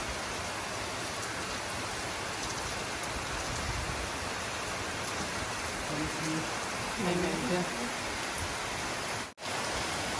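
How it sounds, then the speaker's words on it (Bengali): Steady rain falls on a rainy morning, a dense, even wash of noise that holds throughout, with faint tonal sounds briefly rising midway and a short dropout near the end. "সকালে বৃষ্টি ভেজা দিন, বৃষ্টির অনেক সুন্দর সাউন্ড।"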